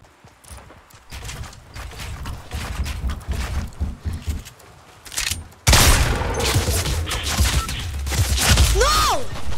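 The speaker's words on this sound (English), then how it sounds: "I'm gonna snipe someone right now." Rapid bursts of gunfire in the video game Fortnite, sniper shots among them, crackle through the whole stretch and grow louder and denser in the second half, with no talk.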